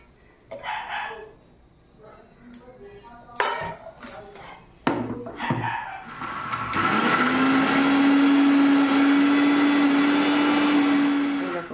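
An electric grinder purees green chilies and stringed flat beans into a paste, starting abruptly after some clattering and handling noises and then running as a loud, steady whir for several seconds.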